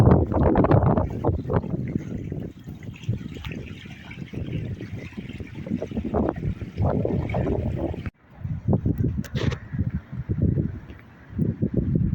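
Gusty wind roars and buffets the microphone outdoors on a sea bream fishing spot, with a lapping, watery texture underneath and a short break partway through.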